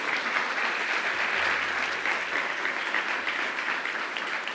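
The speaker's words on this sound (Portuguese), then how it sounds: "Dê uma salva de palmas para o Senhor Jesus." A church congregation claps together in a dense, sustained round of applause that holds steady for several seconds, loud and close, without a break.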